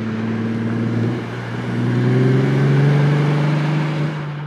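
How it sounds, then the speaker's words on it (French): A Pagani Utopia supercar passes by on its return from a short test drive, its engine note a steady, loud drone that rises and swells as it nears, with a brief dip early on. "la toute nouvelle Pagani Utopia qui revient d'un petit test drive"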